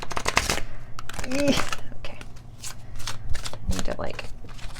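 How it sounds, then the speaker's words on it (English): A stiff tarot card deck is shuffled by hand in rapid, riffling bursts, close and crisp, with brief pauses between passes; a voice speaks a single short word partway through. "This deck is so stiff, so don't judge my shuffling skills."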